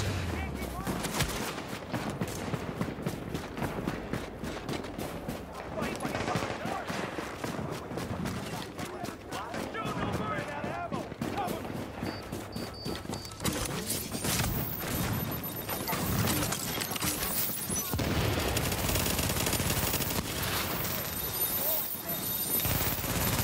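Sentry shotgun firing in Tomato Team: Rogue Chronicles, a dense stream of loud gunfire and blasts running through the whole stretch amid hectic game action.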